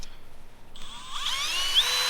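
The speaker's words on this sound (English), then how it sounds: "drill the hole for the wires to go through" A power drill whines into material, starting quietly then rising to a loud, high-pitched grinding whir with shifting pitch as it bites.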